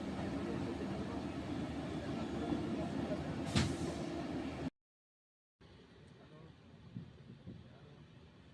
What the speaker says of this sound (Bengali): তো আমাদের ট্রেন এখন ছেড়ে দিয়েছে,